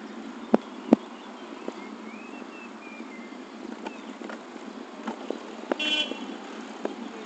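Car horns toot a few times amid stuck traffic in London, short sharp beeps at a moderate distance over a low steady hum of engines.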